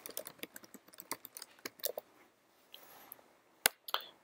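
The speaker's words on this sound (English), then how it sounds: "But just type a file name" Quiet, close clicking of a computer keyboard as a file name is typed, with irregular quick keystrokes, a short pause, then a few final sharper taps.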